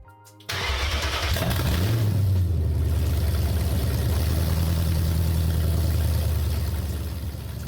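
A BMW 4.6iS V8 with its catalytic converters removed cranks and fires, then settles into a loud, steady, rough idle with a slight rise in revs, close to the exhaust and with no talking.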